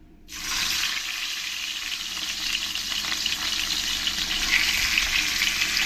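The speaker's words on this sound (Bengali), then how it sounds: "বেশ লাল লাল করে কড়া কড়া করে আমি মাছগুলোকে ভেজে নেবো" Pieces of rohu fish go into hot oil and set off a loud, steady sizzle that swells after a brief quiet start and crackles on without pause.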